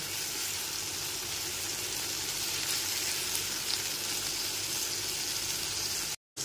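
Chopped tomato stirred with ginger paste in a frying pan gives a steady, close sizzling hiss that runs evenly and cuts out abruptly just before the end.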